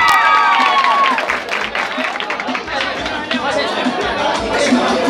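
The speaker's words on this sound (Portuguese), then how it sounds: "eu peço uma salva de palmas para o Esporte Retrolagoense" Crowd at an outdoor municipal prize-giving for a society football tournament, applauding the Esporte Retrolagoense team with chatter and cheering mixed in, dense and steady throughout, a whistle-like tone briefly at the start.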